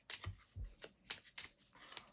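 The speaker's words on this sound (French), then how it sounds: "je vais faire un tirage à 3 cartes" Tarot cards are shuffled by hand before a three-card reading, a quiet close run of quick riffling flicks and soft taps.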